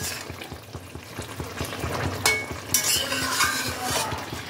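Tilapia fish pieces are turned in a simmering gravy seasoned with ginger and fennel paste, with soft bubbling and a low sizzle under several scraping and clinking spoon strokes against the pan, close and moderately loud, with no voices.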